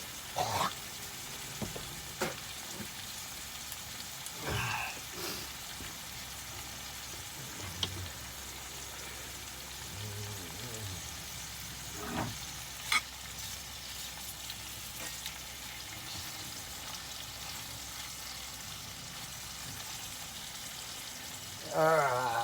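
Steak mixed with egg frying in a pan, a soft continuous sizzle with occasional stirring clicks and scrapes, fairly quiet and close.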